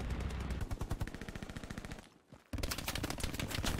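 Rapid machine-gun fire in Hell Let Loose, a loud sustained burst that stops briefly for a half-second gap, then resumes just as dense and steady.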